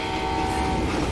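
Steam train in the Call of Juarez video game, a loud, sustained train horn or whistle with a steady tonal blast over rumbling rail noise, close and continuous for about a second.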